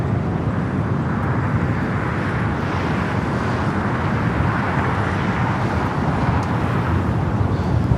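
Air France flight 21 airliner departing LAX for Paris: dense, continuous jet engine roar held at a steady, fairly loud level throughout, with no voices.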